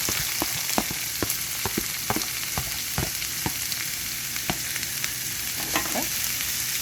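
Vegetables sauté in olive oil in a non-stick skillet over medium-low heat, giving a steady close sizzle with sharp intermittent crackles and pops throughout.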